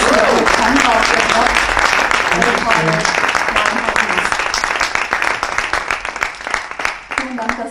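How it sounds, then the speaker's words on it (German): Studio audience applause for a guest on a German talk show, dense steady clapping that fills the whole stretch and thins slightly toward the end, with voices and tonal sounds running over it. "Einen herzlichen Applaus für die Kanzler auf der"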